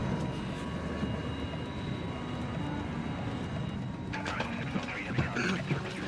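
An airplane engine drones steadily before takeoff, a continuous roar close by that grows busier toward the end, with no clear talking.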